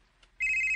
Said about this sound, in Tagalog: Ang imong cellphone, may bagting ka rin.